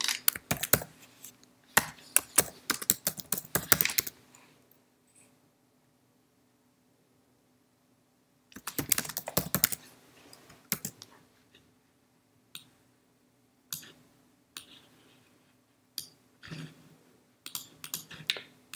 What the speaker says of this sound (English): Remove the text generated and now type what you require for the meme.